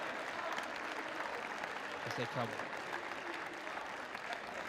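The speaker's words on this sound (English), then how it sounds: "are applauded off the pitch by their fans" Steady crowd applause from supporters as footballers leave the pitch after the SYFA Under-21 Cup Final between Arthurlie Juniors and Tower Hearts FC, a continuous outdoor clapping wash with a commentator's voice briefly heard over it.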